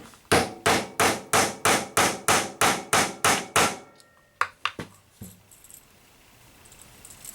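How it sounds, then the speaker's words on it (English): A hammer sets buttons into a leather knife dangler. About ten loud, evenly spaced strikes ring out close up, then a pause and a few lighter, quicker taps before things go quiet. "We'll hammer on these just a time or 2 more to make sure I got a good fit."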